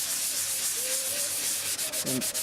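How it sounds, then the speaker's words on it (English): A finished surface is sanded by hand, a continuous close, dry rubbing hiss with even strokes and a few brief dips near the end, with no voices. "I'm just going to sand it by hand except for the edges"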